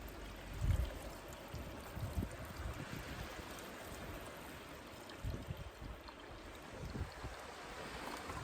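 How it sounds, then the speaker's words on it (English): Water is poured over chopped potatoes in a billy can outdoors, giving a faint, continuous splashing trickle with a few soft clunks, alone without talk. "cover them with water."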